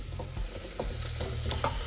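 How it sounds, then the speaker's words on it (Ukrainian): Steady sizzling of onion and rhubarb frying in a pan, with soft scraping and stirring sounds close by. "цибулька наша смажиться довше всіх, тому ми з неї починаємо"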